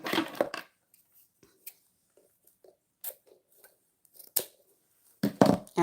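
Scissors cutting ribbon while making a bow, a few quiet isolated snips and faint rustles spread through near-silence, with brief soft voice-like sounds at the start and end.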